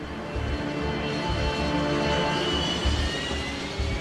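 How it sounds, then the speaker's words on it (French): Airliner jet engines roar at full thrust during a go-around at an airport, a broad steady rumble with a high whine that holds loud and close throughout, with no voices. "tout à coup la poussée des réacteurs vous cloue au fond de votre siège"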